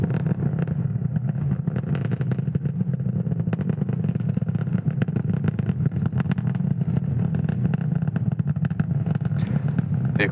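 Falcon 9 rocket engines roar steadily during ascent after liftoff from SLC-40 at Cape Canaveral, Florida: a loud, continuous low rumble with crackling texture, unbroken and without voices.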